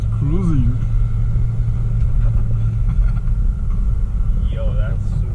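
A Mitsubishi Lancer Evo X GSR cruising, its engine a steady low rumble from inside the car, with voices talking over it.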